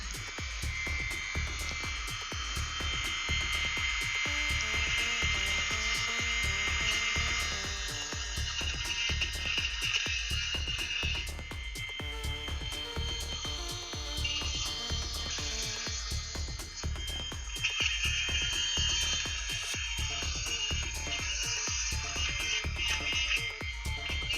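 A small electric drill whirs continuously at close range, its buzzing motor steady with a fast rhythmic pulsing throughout, with no talking.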